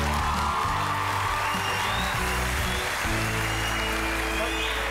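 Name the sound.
studio audience applause on a TV show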